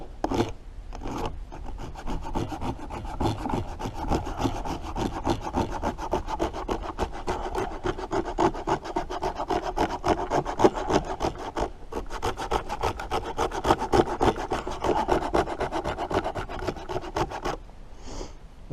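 Hardwood being scraped with a blade to make dry shavings outdoors in wet snow: a steady, rapid rasping of strokes close up that runs continuously for about seventeen seconds, then stops.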